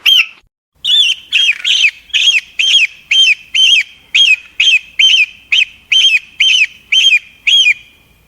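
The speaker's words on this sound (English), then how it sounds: "It is an eagle." An eagle calls alone in a rapid series of about sixteen sharp, high, chattering notes, evenly spaced and loud, after one longer opening note.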